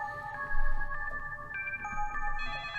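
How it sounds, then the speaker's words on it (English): A telephone ringtone with an ominous, eerie character, heard in a horror story. Sustained electronic tones ring clearly and alone, shifting pitch partway through as more tones layer in. "As soon as I got home, the phone rang"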